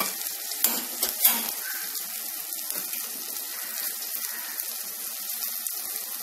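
Steady frying sizzle of onion, tomato and garlic in a pan, a continuous crackling hiss with a few louder pops early on.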